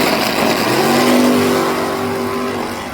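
Drag racing cars accelerate hard down the track in a loud, close engine roar with a rising tone that swells and then eases off.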